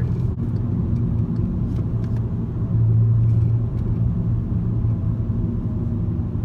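Loud, steady low engine rumble and intake drone from a Cadillac Vigilance car idling close by, holding constant throughout with a slight swell midway and no voices.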